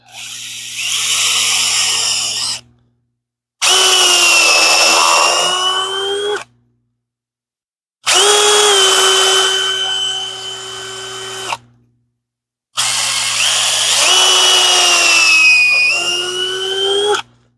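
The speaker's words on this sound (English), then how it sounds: "And we're just drilling through the rubber." A power drill whines through rubber on a truck suspension part in a garage, four long bursts of about three seconds each, loud and close, with short silent pauses between them.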